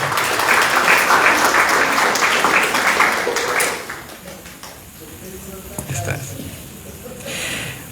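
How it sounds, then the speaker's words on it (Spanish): At a social work conference, the audience applauds loudly for about three seconds, then the clapping fades into quieter room noise with scattered taps and a voice speaking. "Fuerte aplauso, por favor."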